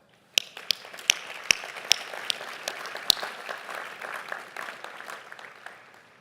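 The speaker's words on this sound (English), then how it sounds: "I also need a round of applause to keep all of us have the blood flowing for the winners" Sparse, scattered claps from a commencement ceremony audience open with several sharp individual hand claps, then thicken into a soft, moderately distant patter of applause that slowly fades.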